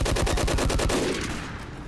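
Rapid gunfire from a sniper rifle in Team Fortress 2 rings out as a fast run of sharp, loud cracks for about a second before trailing off into a fading echo, with no voices.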